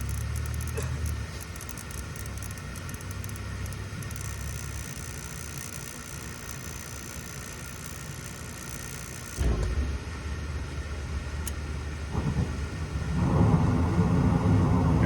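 A steady mechanical hum and whir runs for several seconds, then a click and a deeper roaring rumble swells in as a long-unused heating burner lights and fires.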